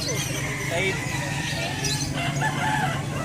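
Chinese chickens cluck and crow among a bird collection, the calls mixed into a dense, steady backdrop under people talking nearby.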